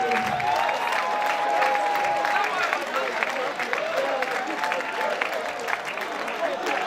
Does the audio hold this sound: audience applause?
yes